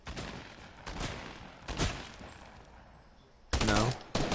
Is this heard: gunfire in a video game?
yes